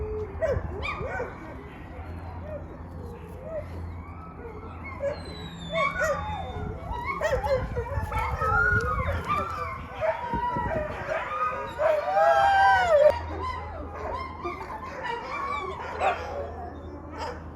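Wolf pups whine and yip in a busy cluster of high, wavering cries, with some whimpering, fairly close, while people talk in the background.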